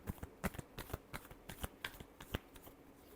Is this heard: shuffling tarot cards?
yes